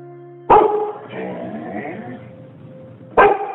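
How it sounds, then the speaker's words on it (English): A family dog lets out two loud, close barks roughly three seconds apart, the second starting a fresh bout, with a quieter stretch of room sound and a faint whine between them. "That sound you hear is our family dog, Phoebe."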